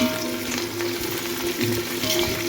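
Onions, bay leaf and herbs such as coriander, fenugreek leaves and mint sizzle steadily in hot oil for biryani, with scraping stir strokes of a spoon in the pan, close and continuous.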